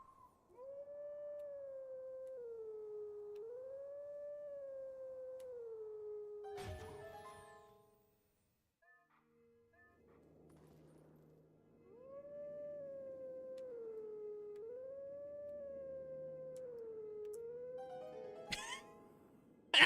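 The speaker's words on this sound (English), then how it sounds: "I need to howl." Wolf howl in a Zelda Twilight Princess randomizer game, a clear tonal melodic howl rising and falling in two long phrases separated by a pause with soft tones, fairly faint and alone.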